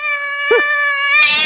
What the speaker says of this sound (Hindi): मेरा ही पालतू बिलौटा मेरा को काट रहा है।